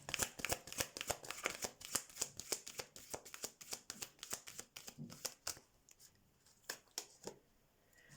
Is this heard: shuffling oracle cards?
yes